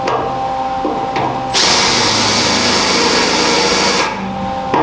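A loud power drill whirs steadily for a few seconds, grinding hard through the first layer of metal of a car quarter panel, then stops, leaving quieter mechanical noise behind.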